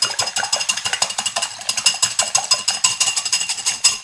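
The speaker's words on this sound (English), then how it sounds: "Okay, I've got my eggs ready for me to scramble. Taking my whisk," Eggs are whisked in a 1-quart container with fast, regular clicking strokes, close and steady, pausing briefly once partway through.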